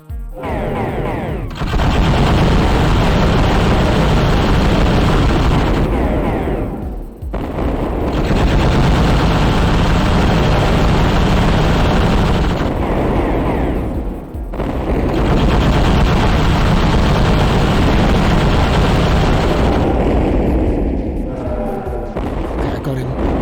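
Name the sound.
gunfire from the player's guns in a video game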